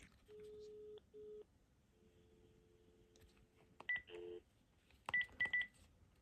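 A phone dials into a cell-to-jack adapter, giving a faint, quiet sequence of steady tones, then sharper high beeps in short clusters over a low background hiss.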